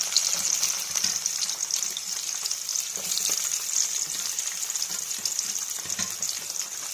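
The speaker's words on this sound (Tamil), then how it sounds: "கடுகெல்லாம் பொரிஞ்சிட்ருக்கு" Mustard and fenugreek seeds, garlic and onion frying in hot oil for a raw-mango tamarind curry, a steady close sizzle with faint crackles and occasional scrapes, no voices.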